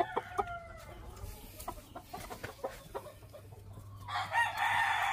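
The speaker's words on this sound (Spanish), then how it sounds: "También están pollitos apenas." Chickens and young chicks on a farm, with clucking, a rooster crowing and scattered peeping calls at moderate distance, ending in a louder burst of rustling noise.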